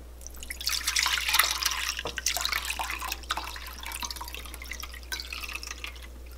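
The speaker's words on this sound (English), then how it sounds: "next we need to drain the buttermilk" Buttermilk draining from freshly churned butter, a close trickle and drip of liquid pouring steadily into a container with no talking.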